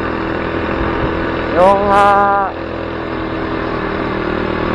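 A Chinaped Zip 49cc four-stroke scooter engine with a GX35 motor runs at a steady idle hum, loud and close, while a short tonal whine rises briefly over it and someone speaks a word.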